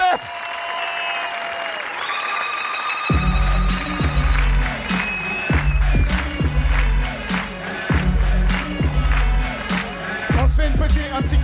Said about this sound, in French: Un tonnerre d'applaudissements pour mes partenaires.